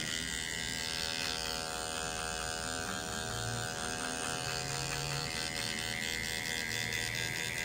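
An electric hair clipper buzzes steadily, held close, its tip working to blend out a line while fading curly hair.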